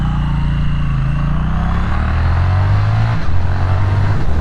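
A 2025 Triumph Speed Twin RS motorcycle accelerates hard, its engine note climbing loud and close and then dropping at quick-shifter gear changes, with wind rush over the top.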